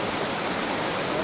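The Yellowstone River pours over a waterfall in the Grand Canyon of Yellowstone, a constant, dense roaring rush of falling water that stays loud and unchanging for the entire brief moment.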